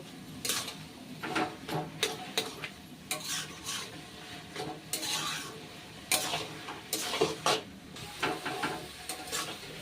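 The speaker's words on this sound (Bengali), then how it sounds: "হাই হিটে এটাকে একদম ভাজা ভাজা করে নেব" Ash gourd with salt and turmeric fries over high heat while a utensil scrapes and clatters against the pan in repeated bursts, with a soft sizzle underneath and no talking.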